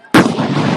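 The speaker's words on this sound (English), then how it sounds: "That was a firework that went off right at the police line." A firework explodes right at a police line during a street protest, one sudden loud close blast followed by a long ringing, crackling decay with no voices.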